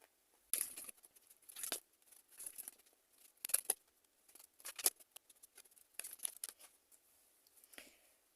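Tarot cards drawn and handled in a reading, a series of soft papery slides, flicks and rustles in irregular bursts, quiet and close, with no voices.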